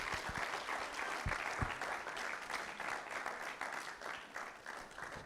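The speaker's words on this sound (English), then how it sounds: "Please, let's give a round of applause." Sustained applause from a crowd at a compliance management workshop, dense steady clapping throughout with a few sharper claps standing out near the start.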